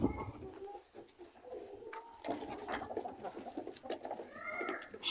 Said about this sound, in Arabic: خرجت الطيور برا السطوح كده في الشمس